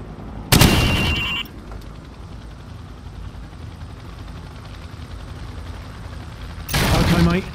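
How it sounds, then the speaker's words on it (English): Rifle fire at training targets in the Call of Duty 4: Modern Warfare training course, heard as two loud close bursts of rapid shots, one at the start and one near the end, with quiet game ambience between. "Now, shoot each target while aiming down the sights."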